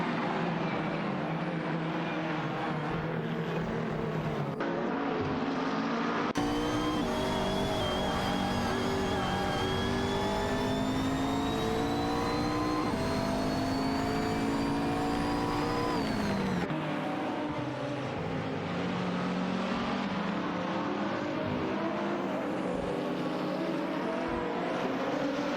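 Race cars in a racing video game, including GT cars like a McLaren 720S GT3, engines droning and revving loudly and continuously, with pitch sweeps as cars shift and pass.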